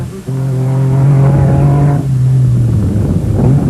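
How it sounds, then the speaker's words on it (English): A 1997 Dakar Rally car with 300 horsepower driving all four wheels through sand, its engine roaring in a loud, steady drone that dips briefly and then holds strong, heard up close with no voices. "300 horses pumping out from underneath the bonnet, to all 4 wheels being powered. The tyres digging into the sand."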